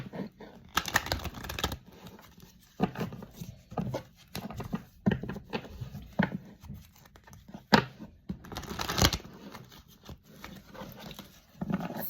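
Tarot cards are shuffled in quick bursts of crisp riffling and papery slaps, separated by short pauses, close and fairly quiet with no voices.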